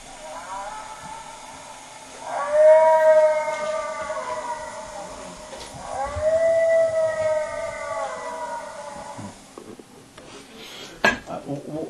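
Two long, rising and falling wailing howls, known as the Illinois howl and attributed to bigfoot, played from a recording, carry over a quiet background, each lasting a few seconds.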